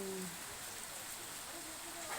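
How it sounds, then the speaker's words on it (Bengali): Steady rain hisses in a continuous wash of drops, fairly distant and soft, with a faint voice in the background. "প্রচুর পরিমাণে বৃষ্টি হচ্ছে"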